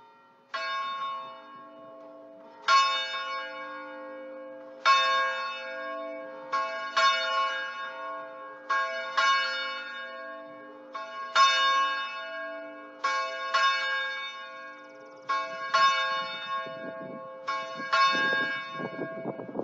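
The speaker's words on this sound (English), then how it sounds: "we'll begin our worship with the ringing of the church bell" A church bell rings before a Sunday worship service, about ten clear, resonant strokes at a slow, even pace, each with a long ringing decay that overlaps the next, heard alone and fairly close.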